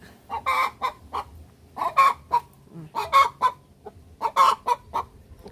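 A hen clucks repeatedly after laying an egg: a steady series of close, loud, rhythmic clucks in short bursts, with some low background noise.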